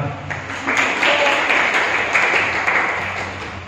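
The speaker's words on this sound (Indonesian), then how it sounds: "Ya, tepuk tangan." An audience of high school students at a traffic safety session breaks into a short burst of applause, a close, dense wash of clapping lasting a few seconds.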